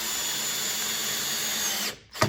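A power driver tightens screws during a Hehr standard window rebuild: a loud, continuous motor whine runs for about two seconds, cuts out, then gives one short final burst.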